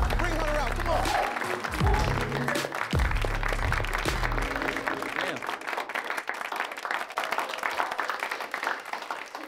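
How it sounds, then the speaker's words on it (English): An audience at a film festival screening event claps steadily, sustaining a dense round of applause for several seconds with voices and low rumbling sounds mixed in early on before the clapping continues alone. "please, clap it up for my man Hunter"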